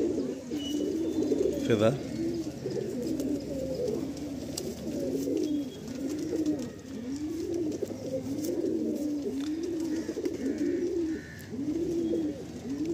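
Pigeons for sale in Kolkata coo in repeated, throaty rolling phrases close by, a steady rhythm of soft rising-and-falling calls that runs under people talking.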